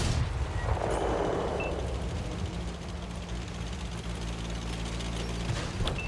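Tank guns firing in World of Tanks, with a heavy boom near the start followed by a steady low engine-like rumble and a faint later report, no talking.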